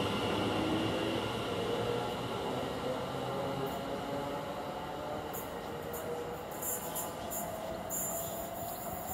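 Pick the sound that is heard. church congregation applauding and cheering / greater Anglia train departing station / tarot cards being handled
greater Anglia train departing station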